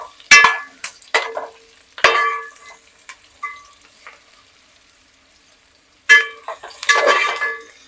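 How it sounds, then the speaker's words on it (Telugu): Boiled eggs frying in oil in a pan for egg biryani, with several sharp clattering stirs and scrapes in bursts separated by quiet gaps of faint sizzling. "సో ఇందులో మనం ఉడకబెట్టుకున్న గుడ్డని ఇందులోనే వేసుకొని నూనెలో కొంచెం ఫ్రై చేసుకోవాలి."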